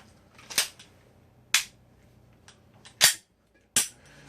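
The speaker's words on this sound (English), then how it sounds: "my weakness is reloading and shooting to the left, or reloading from my left side. So I'm going to reload." Four sharp gunshot-like cracks, loud and close, come at uneven intervals during a handgun reload-and-shoot drill with no talking.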